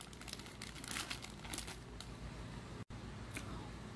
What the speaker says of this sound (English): they are packed in a small plastic bag like this one.